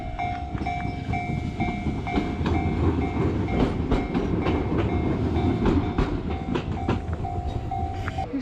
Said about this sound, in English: Here's the old train.